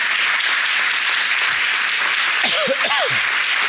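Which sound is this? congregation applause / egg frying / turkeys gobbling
congregation applause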